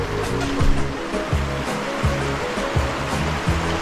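Choppy, fast-moving river water gives a steady, close rushing wash with no speech, broken by repeated low rumbling surges throughout.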